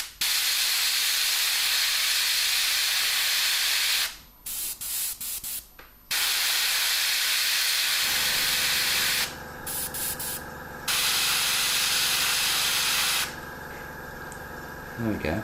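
An airbrush sprays blue plasma glow paint for object source lighting, a loud steady hiss in several long bursts with short pauses between passes.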